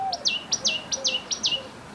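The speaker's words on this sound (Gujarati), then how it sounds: "ચકલા બોલે ને" Sparrows chirp outdoors in a Gujarati village: quick, bright paired tweets repeat rapidly about four times within two seconds, moderately near and alone.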